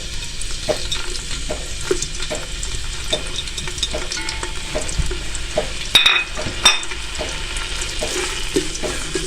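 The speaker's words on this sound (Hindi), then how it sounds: "जब तक हमारा प्याज फ्राई होता है" Sliced onions fry in hot oil for kadhi pakora, a steady moderate sizzle with occasional stirring clinks and scrapes of a utensil against the pan, no talking.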